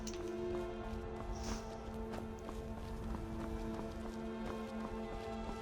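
Steady clip-clop of horse-drawn carriage hooves at a walking pace in Skyrim, with a rolling rumble and soft music-like tones underneath.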